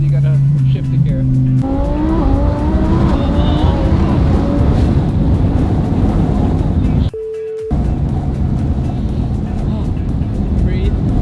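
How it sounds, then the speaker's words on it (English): Twin-turbo race car revving hard and accelerating through quick gear changes, rising engine pitch sweeps loud and close with a brief break partway, tire noise underneath. "as soon as you hit the throttle, you gotta shift the gear."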